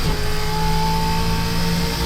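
A race car engine held on throttle in a racing video game, a loud, steady, high droning note that stays even throughout with no talking.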